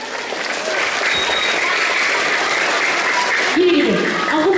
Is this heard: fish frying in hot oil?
no